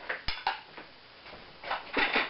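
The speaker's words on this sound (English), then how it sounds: "And then I'm going to put it on the stove." A metal pot set down on a stovetop while making honey mustard pretzels, a few sharp clanks and scrapes of cookware, close and alone.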